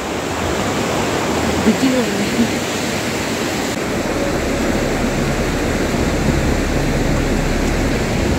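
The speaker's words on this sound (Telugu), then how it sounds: "ఈ రివర్ వచ్చి పర్బతి రివర్. చాలా ఫాస్ట్గా ఫ్లో అవుతుంది." The fast-flowing Parvati river near Kasol roars steadily as broadband rushing water for the whole stretch, heard from a bridge crossing, with a voice speaking briefly over it.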